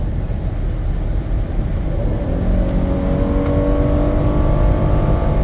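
A 2015 all-wheel-drive Ford Explorer Police Interceptor with a 3.7L engine accelerates, its loud, close engine note climbing steadily in pitch over a constant roar of road and wind noise.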